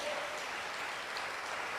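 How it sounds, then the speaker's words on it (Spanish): A church congregation claps for the Lord during a Spanish-language sermon, a dense, steady wash of many hands filling the space without a break, with no voices rising above it. "Dale fuerte las palmas al Señor."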